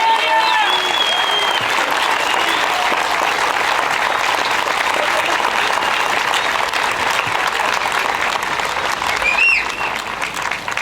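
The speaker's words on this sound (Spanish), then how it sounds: "por favor, un gran aplauso para ella." Loud, continuous crowd applause at an outdoor political rally in a city plaza, dense clapping and cheering holding steady throughout with a few whistles rising near the end.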